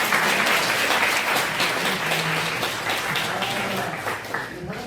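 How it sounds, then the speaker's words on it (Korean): An audience gives a warm round of applause for a visiting army division commander, a full wash of clapping that starts strong and gradually tapers, with faint voices mixed underneath. "우리 사단장님 위해서 박수 한번 주시죠."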